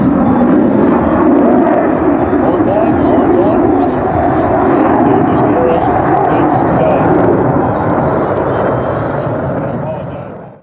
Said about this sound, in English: Our F-15's in,